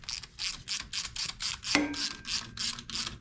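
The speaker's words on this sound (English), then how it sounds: "Let's see if I can get this worm clamp started here." A ratchet clicks rhythmically in quick, even strokes while tightening a worm clamp during a diverter valve kit install on a John Deere compact tractor, with a brief metallic ring partway through.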